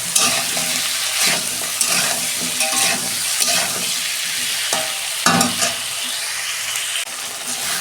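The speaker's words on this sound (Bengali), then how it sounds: "ওই তেলেতেই সবজিগুলো ভেজে নেব।" Salted vegetables frying in oil in a pan, a continuous loud sizzle broken by the scrape and clatter of stirring at irregular intervals, with no talking.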